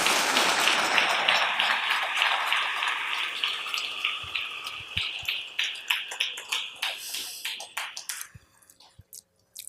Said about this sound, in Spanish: Denle ese aplauso al Señor en esta linda mañana.